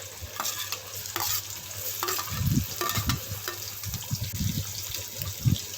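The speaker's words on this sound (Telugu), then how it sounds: "కడాయి పెట్టుకొని వేడైన తర్వాత సరిపడినంత నూనె వేసుకోవాలి సన్నగా తరిగిన ఉల్లిపాయ ముక్కలు" Thinly sliced onions fry in hot oil in a kadai, a steady close sizzle with bursts of stirring and scraping from a spoon.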